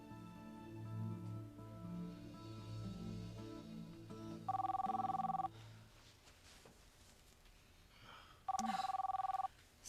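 A telephone rings in two clear electronic bursts, each about a second long and separated by a few seconds, cutting in over low background music with no talk.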